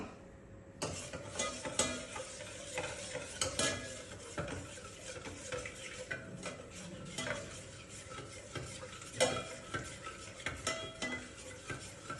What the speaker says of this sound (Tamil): அரைச்சதோட கொஞ்சம் தண்ணியும் கலந்து எல்லாத்தையும் சேர்த்து கிண்ட போறேன்னா